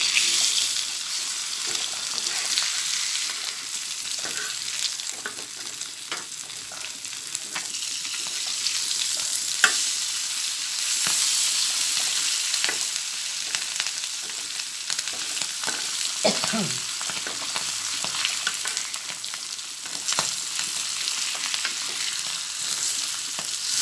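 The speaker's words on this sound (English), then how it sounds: "Now you can stir it." Vanjaram fish masala gravy fries and bubbles over a medium flame, a continuous hissing sizzle with occasional scrapes and clinks of stirring, steady and moderately loud for the whole stretch.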